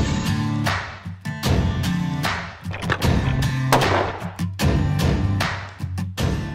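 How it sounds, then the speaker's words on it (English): Rifles, including a .338 Lapua Magnum, fire repeatedly at plywood and self-healing foam targets outdoors, loud sharp reports in an uneven series with booming tails between shots. "We're gonna fire a bunch of rounds through them, see how much damage they take"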